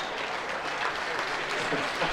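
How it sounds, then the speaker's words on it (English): A crowd at an Easton/Hoyt archery pro-am breaks into applause, a steady burst of clapping from many hands lasting about two seconds, with a few voices mixed in. "And the crowd goes crazy"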